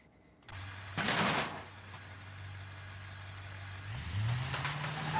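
A car is driven in the BeamNG driving game, a low engine drone with a sharp burst of noise early on and a rising rev near the end, moderately loud and alone.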